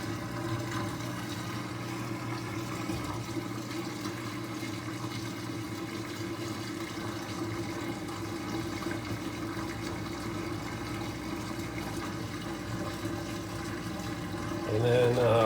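Whirlpool WTW5000DW top-load washing machine draining, a steady low pump hum with faint water gurgle that runs continuously and swells slightly at the end, with a person talking at times.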